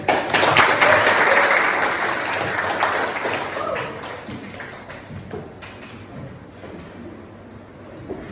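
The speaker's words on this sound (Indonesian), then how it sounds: "Semuanya memberikan tepuk tangan ke teman-temannya." Classroom of students applauding a student group after their performance, a loud burst of clapping that gradually fades and thins over several seconds.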